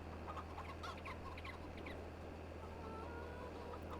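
Chickens cluck in a Farming Simulator 22 farmyard, a cluster of short clucks and calls over a steady low hum, moderately faint and with no talking.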